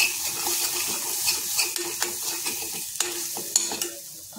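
Aloe vera vegetable being stirred in a pan with ground cumin and pepper, a soft sizzle under scraping spoon strokes that repeat in an uneven rhythm, close by, with no talking.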